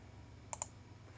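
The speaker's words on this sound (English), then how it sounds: "I can add new brushes from the brushes library by clicking on the drop down in the corner" Two quick, faint computer mouse clicks about a tenth of a second apart, close and crisp against a quiet room background.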